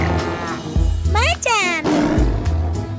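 A cartoon tiger roars loudly in a children's animal song, a drawn-out growling roar set against music, with a sung voice that may be imitating the animal.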